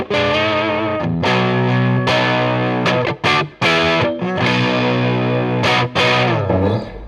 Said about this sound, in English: Just your regular kind of overdrive, low to medium gain.